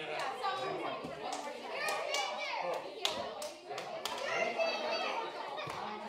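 Young children in a class clap their hands together in scattered, uneven bursts, mingled with lively chatter, shouts and an adult voice guiding them.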